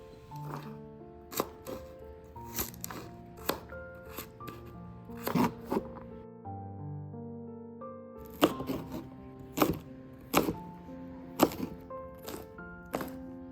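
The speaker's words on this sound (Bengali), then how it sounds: "এই গাজরটাকে খোসা ছাড়িয়ে লম্বা লম্বা চারকোনা করে কেটে নিই" Peeled carrot chopped into long square strips on a board, sharp knife thunks in irregular bursts, close, with soft background music underneath and no talk.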